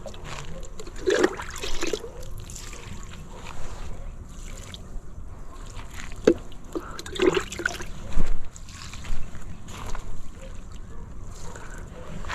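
Water is poured from a dipper onto the base of plants in a cultivated plot, three plants to each dipperful. A few short splashes and trickles stand out over steady outdoor ambience, with faint voices at times.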